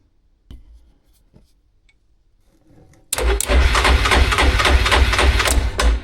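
An ATV starter motor cranks loudly and steadily for about three seconds after being jumped across the solenoid posts with a screwdriver, following a few faint clicks and taps.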